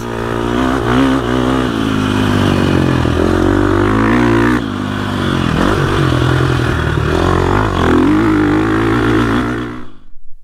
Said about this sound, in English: 2021 Gas 350 EX350F off-road race bike